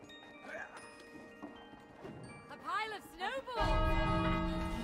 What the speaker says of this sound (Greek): Σπάσαμε δεύτερη καμπανούλα.